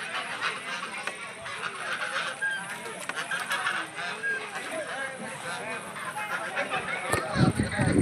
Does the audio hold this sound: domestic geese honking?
yes